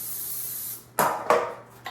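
A few short hissing bursts from a cooking spray can onto parchment paper, three quick sprays with pauses between, after a steady faint hiss.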